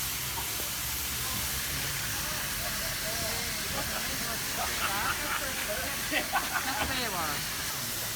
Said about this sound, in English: Smoke and steam.